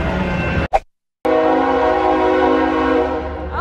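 A loud train rumbles past with a sustained horn blast, interrupted by a brief cut to silence before the steady roar and horn resume, in the San Francisco Bay Area.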